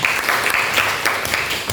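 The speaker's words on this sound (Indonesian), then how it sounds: "Ya, tepuk tangan dulu dong ya." A class applauds during a lesson, brief close clapping with uneven bursts across a couple of seconds, fairly loud and without talk over it.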